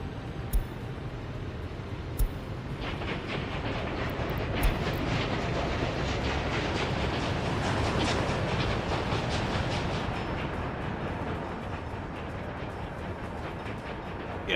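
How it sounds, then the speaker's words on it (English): Trains running in the rail-transport game Workers and Resources, a loud steady rumble with rhythmic clickety-clack of wagons rolling continuously, close and sustained throughout with no talk. "Most of the trains are actually pretty loud."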